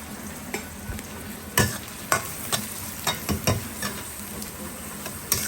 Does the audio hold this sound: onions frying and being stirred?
yes